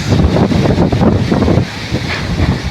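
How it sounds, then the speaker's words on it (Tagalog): Strong wind buffets the microphone in a rice field with a loud, continuous roaring rush that swells and dips, no voices. "lakas ng hangin guys"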